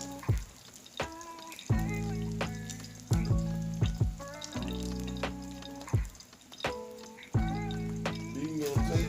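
Egg sizzling in a very hot pan for a meatloaf omelet, steady frying crackle with sharp pops and spits recurring every second or so, close and moderately quiet.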